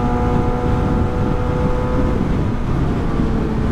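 An Aprilia motorcycle engine runs at a steady idle, a continuous low rumbling drone with a faint hum, close and fairly loud with no voices.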